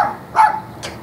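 A dog gives two quick, short barks about half a second apart, close by and moderately loud, with faint background hum.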